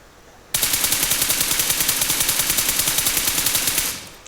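PUBG Mobile gunfire: one sustained burst of rapid automatic fire starts abruptly and hammers on at a steady, even rhythm for about three and a half seconds before cutting off, loud and close, with no talk over it.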